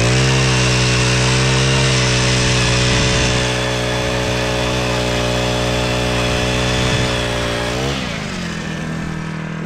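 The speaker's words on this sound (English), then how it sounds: "That's the ice auger, the automatic ice auger." Loud, steady roar of a propane-powered ice auger drilling lake ice, a close engine whine that shifts pitch briefly near the end before settling.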